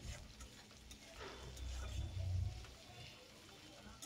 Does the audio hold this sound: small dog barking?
no